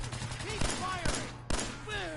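Video game gunfire: three sharp shots at an even pace stand out over a steady electronic hum, with faint radio-like voices beneath them.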